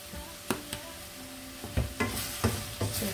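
Vegetables for chicken ramen frying in a pan, a quiet steady sizzle broken by several sharp stirring scrapes and taps of a utensil.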